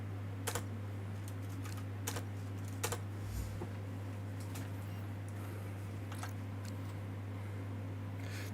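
Someone types on a computer keyboard, with sparse, quiet key clicks scattered over a steady electrical hum and no talking.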